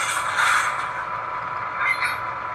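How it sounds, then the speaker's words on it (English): A coupler clank from a ScaleTrains SD7 locomotive sound decoder, a brief metallic hiss-and-clatter with a second small burst near the end, heard alone over a steady background hiss. "21 is a coupler."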